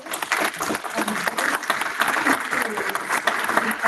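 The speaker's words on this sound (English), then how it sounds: "I would just like to applaud staff for this." Applause for staff at a county board work session, a dense, continuous patter of many hands clapping at moderate volume.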